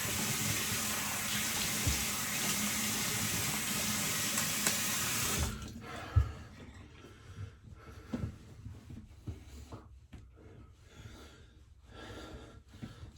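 A razor rinsed under a running tap gives a steady, close rush of water for several seconds, then cuts off, leaving light clinks and handling sounds.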